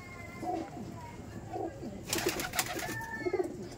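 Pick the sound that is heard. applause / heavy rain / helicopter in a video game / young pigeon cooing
young pigeon cooing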